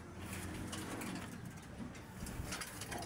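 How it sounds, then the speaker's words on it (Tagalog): Pigeons at a loft give soft, low cooing amid a faint, hissy background with scattered light noises, quiet and close, no talk. "Yung mga tropa ibon natin."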